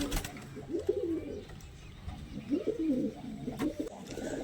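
Pigeons coo in a loft, several soft throaty rolling calls in bursts, one near the start and more later, with no talk over them.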